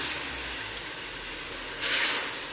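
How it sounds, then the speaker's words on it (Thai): Tamarind water poured into a hot pan while making a fiery Thai shrimp chili paste, a steady broad hiss that swells into a louder burst of sizzling steam near the end, with no talking. "ใส่น้ำมะขามเปียกลงไปค่ะ"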